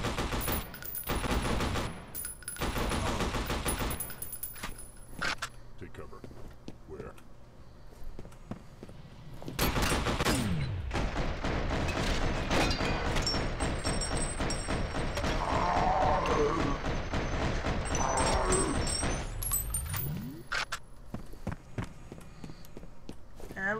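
Sustained gunfire rattles through a firefight in F.E.A.R. Perseus Mandate, with dense rapid shots in long bursts broken by a brief lull, alongside footsteps and thuds.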